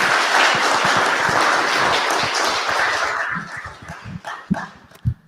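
A dense burst of audience clapping and cheering fills a hall after an astronomy talk at an Athenaeum centenary event, holding steady for about three seconds, then thinning into a few scattered claps.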